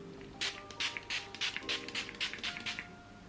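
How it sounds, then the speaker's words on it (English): Setting spray spritzed onto the face, a rapid run of about ten short, airy hissing bursts in a steady rhythm, close and moderately quiet with no talking over it. "my face was feeling really matte, so I'm gonna spray quite a bit"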